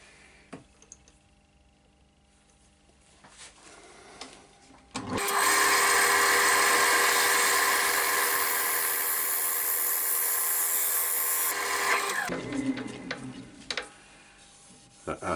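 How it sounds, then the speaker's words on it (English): Steel scraper taking gentle cuts across a spinning sycamore platter on a wood lathe, a loud, steady broadband hiss for about seven seconds, set between quieter stretches of lathe hum. "I'm going to go over this with a scraper, the side, scrape that one there, some nice gentle cuts"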